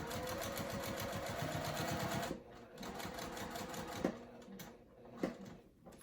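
Sewing machine stitching a crossbody bag: a fast, steady needle rattle running loud and close, breaking off abruptly, then resuming in a softer, slower run with a few clicks and knocks.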